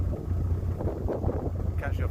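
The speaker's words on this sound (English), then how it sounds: "A bit windy." Wind buffets the microphone on a canal boat, a steady low rumble and gusty noise running the whole time with faint water and engine texture beneath.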